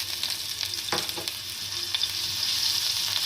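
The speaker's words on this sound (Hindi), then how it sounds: "लहसुन को हल्का सा हमने फ्राई कर लिया।" Garlic sizzles steadily in hot oil in a pan, a continuous close hiss with a few soft scraping stirs partway through and no voices.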